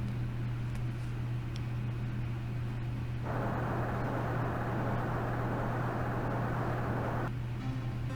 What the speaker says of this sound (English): I guess that's the sound of the earthquake.